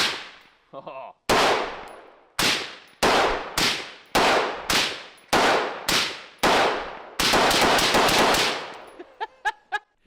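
A rapid series of suppressed rifle shots in a video game, about ten sharp cracks with ringing tails, evenly spaced and loud, followed by a few quick metallic clicks.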